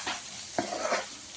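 Capsicum fry stirred in a pan after chilli powder, coriander powder and cumin powder go in, with three or four quick scraping strokes over a soft steady sizzle.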